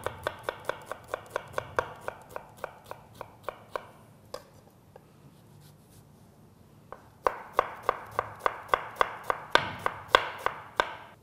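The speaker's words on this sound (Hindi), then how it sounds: "ये जो प्याज है इसे चॉप कर लेते हैं जब तक तेल गर्म होता है।" An onion is chopped with a knife on a board while making peanut chutney, a quick steady run of crisp taps that pauses briefly and then resumes louder and faster, close and alone.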